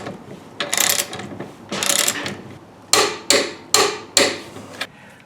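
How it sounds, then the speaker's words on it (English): Suspension bolts on a Camaro tightened with a ratchet wrench: several rapid clicking bursts, first two longer runs, then four short sharp ratchet spurts, close and fairly loud with no talk. "these bolts and these bolts are also loose, so we're just gonna go ahead and tighten those down"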